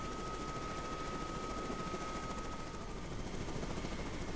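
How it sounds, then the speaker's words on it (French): A cartoon helicopter drones steadily throughout, with a constant rotor-and-engine noise and a thin whine running underneath it. "Alors ce matin, tu es pilote d'hélicoptère, Martin."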